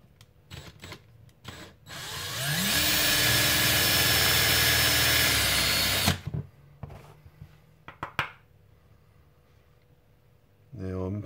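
A drill bores into a brass breech for a Nerf Retaliator blaster, a loud, steady whine lasting about four seconds, followed by quieter clicks and handling noises and a short final burst.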